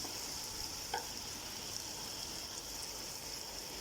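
Tomatoes are stirred and fried in a pan with cooked tinda, keeping up a steady, moderate sizzle. A single faint utensil tap sounds early on, and no one speaks.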